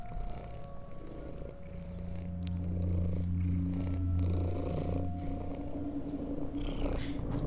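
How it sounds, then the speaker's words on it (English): A lynx-like cat purrs in the wilderness survival game Shelter 2, a steady, close, continuous rumbling purr that swells slightly louder midway, over faint ambient game music with no talking. "Oh, look, you can hear him purring."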